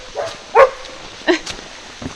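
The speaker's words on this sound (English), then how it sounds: "And then a man came out to yell at the dogs for making noise." Dogs loaded in a truck fitted with kennels bark outdoors along a rainy hiking trail, a few sharp barks and yips spaced apart at moderate distance, no talking.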